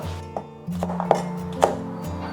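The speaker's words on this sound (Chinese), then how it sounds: "准备多一点的葱姜蒜，我们切小粒。" A kitchen knife chops scallion, ginger and garlic into small pieces on a cutting board, giving a handful of close, irregular thuds over a low background hum, with no talk.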